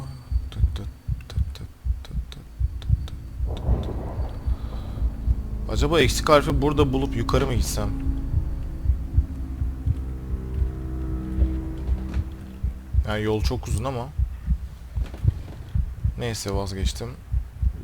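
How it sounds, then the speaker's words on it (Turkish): A thudding heartbeat from the video game Among the Sleep pulses low and steady under someone talking in Turkish, with the game's hum beneath and bursts of other game noise. "Orada kalp atışım hızlandı galiba."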